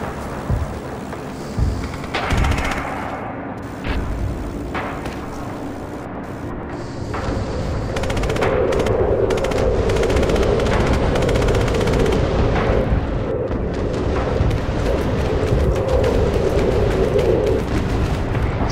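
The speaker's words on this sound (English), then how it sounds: "So much artillery." Heavy artillery barrages and gunfire in the World War II shooter game Red Orchestra 2, a dense, continuous rumble of booming explosions and rattling shots that builds and stays loud with no pauses.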